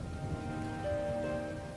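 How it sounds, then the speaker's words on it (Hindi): Rain falling as a cartoon sound effect, a steady, even hiss of raindrops with soft sustained tones underneath and no voices. "बारिश शुरू हो गई और ये बारिश जब एक बार शुरू हो जाती है तो रुकने का नाम ही नहीं लेती।"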